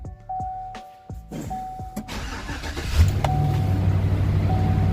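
A 2018 Chevy Silverado with a newly replaced fuel pump cranks in several short starter bursts, then fires and settles into a steady, loud idle close by, with brief electronic chimes sounding over it.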